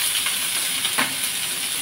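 Chopped ginger and drained lentils fry in a hot pan with a loud, close, steady sizzle and the faint scrape of stirring, with no talking.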